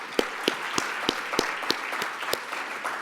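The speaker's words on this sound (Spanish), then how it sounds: "Muchas gracias, un aplauso." Applause from the audience at the opening of a Coneval seminar on monitoring and evaluation practices: sharp, separate claps ring out in a loose, steady rhythm over a low background murmur of clapping.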